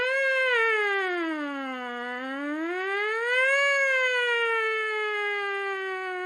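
A steady lip buzz glides down and back up in pitch, imitating a wailing siren, loud and sustained.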